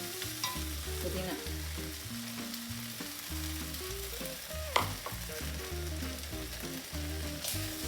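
Mint leaves fry with softened tomatoes in a pan for a South Indian chutney, sizzling steadily while a spoon stirs and scrapes through them in irregular strokes, close by and without speech.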